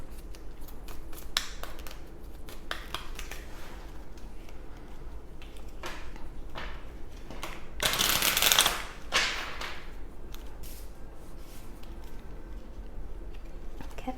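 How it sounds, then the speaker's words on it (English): Tarot cards are shuffled in quick, soft riffling patters close to the microphone, with one louder, longer burst of shuffling near the middle. "Get one more good shuffle for you guys."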